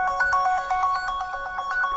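A phone's ringtone sounding after being activated remotely from a phone-tracking app, a continuous pulsing electronic tune with quick regular beats, loud and near, heard on its own.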